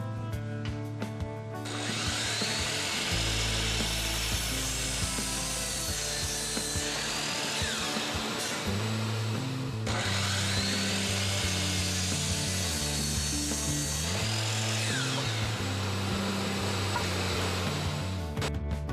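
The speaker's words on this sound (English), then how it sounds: "Next, I take some slightly used 2x6 lumber I had on hand and cut 2 5-foot boards." A power saw cuts through slightly used 2x6 lumber boards in two long passes, each a sustained whining buzz close by, separated by a short pause.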